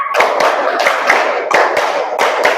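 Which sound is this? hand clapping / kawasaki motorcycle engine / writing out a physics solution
hand clapping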